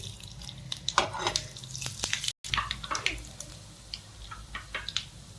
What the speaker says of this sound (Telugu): నేను ఇప్పుడు పోపు దినుసులు వేసుకుంటున్నాండి శనగపప్పు మినపప్పు జీలకర్ర ఆవాలు